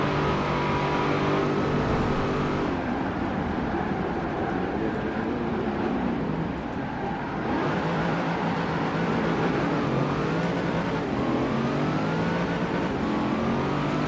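A Chevrolet Corvette ZR1 rated at 550 kilowatts accelerates hard in the Forza video game, its engine droning loud and continuous with a slight dip before it builds again.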